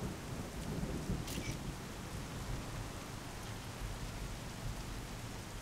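Steady rain with rolling thunder in the open-world game Saints Row: The Third, a continuous wash of downpour with a low rumble swelling early on, no voices.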